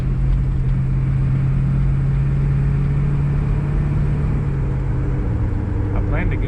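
A 1973 Monte Carlo's engine drones steadily while accelerating on the interstate, a loud continuous low rumble with a sustained tone, with people talking over it inside the car.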